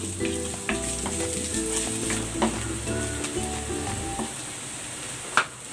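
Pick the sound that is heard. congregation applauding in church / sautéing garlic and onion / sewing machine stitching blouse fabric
sautéing garlic and onion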